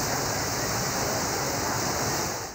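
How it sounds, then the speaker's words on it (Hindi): Torrential rain in Sindh's Hyderabad with rainwater flowing through the streets, heard as a loud, unbroken roar of dense hiss that stays steady throughout. "धुआंधार बारिश थमने का नाम नहीं ले रही।"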